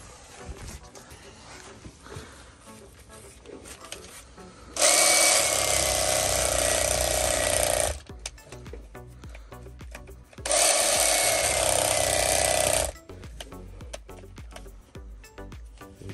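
A reciprocating saw cutting tree roots while a gardener digs out a stump, heard as two loud buzzing bursts of a few seconds each, separated by quieter rustling and handling noise, with people talking nearby.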